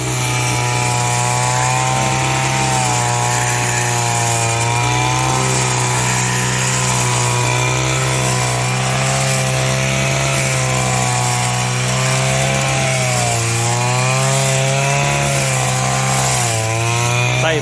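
A petrol grass cutter of about five to seven kilograms runs continuously close by, a loud buzzing two-stroke drone whose pitch rises and falls slightly as the throttle shifts.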